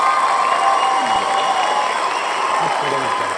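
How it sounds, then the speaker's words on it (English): Audience applause at a Kentucky basketball fan event, a steady wash of clapping from a crowd throughout, with speech heard over it. "Give them a nice clap."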